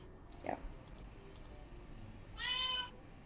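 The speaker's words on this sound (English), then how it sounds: "Hi, Kitty." A house cat meows once, a short close tonal call near the end, over quiet room tone with a few faint clicks earlier.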